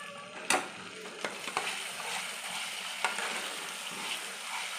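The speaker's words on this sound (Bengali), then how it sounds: "আমার মশলাগুলো দেখো ভালোভাবে কষানো হয়ে গেছে এবং তেলও ছেড়ে গেছে" Spices and masala fry in hot oil in a pan for a chicken dish, giving a steady close sizzle with a few sharp clicks and stirring knocks, no voices.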